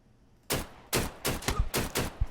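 Gunfire in Deadside: five loud, evenly spaced shots following a quiet start, each sharp crack trailing into a short echo.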